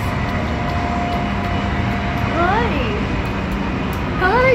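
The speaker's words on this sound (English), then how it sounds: "Oh, here comes a train." Train passing with a constant rumble and wavering horn-like tones sounding twice, fairly loud and steady throughout.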